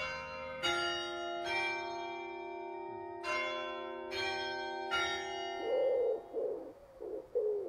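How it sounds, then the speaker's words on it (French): Belfry bells of the Hôtel de Ville in Bruay-La-Buissière ring out in slow, spaced strokes with long resonant hums between, while a pigeon coos softly nearby toward the end. "comme le célèbrent chaque quart d'heure les cloches du beffroi"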